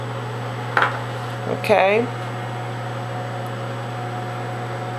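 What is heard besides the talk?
microwave oven running, melting cream eyeliner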